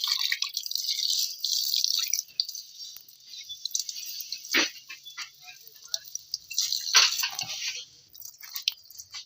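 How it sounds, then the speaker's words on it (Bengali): A cutting board is washed under running water, with trickling, splashing and dripping, soft rubbing, and a few sharper knocks as the board is handled close by. "তো আমরা সুন্দর করে আস্তে আস্তে কাটিং বোর্ডটা ধুয়ে নিচ্ছি।"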